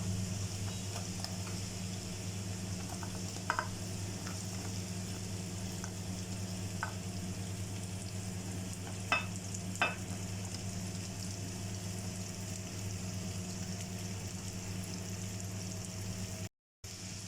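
Carrot, capsicum and onion stir-frying in a pan make a faint, steady sizzle under a low hum, with a few light clicks of stirring and no talking.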